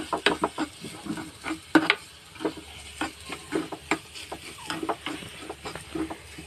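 Garlic, urad dal, toor dal, pepper powder and curry leaves fry quietly in a pan for tomato rasam, with soft sizzling broken by frequent scraping stirs and light taps.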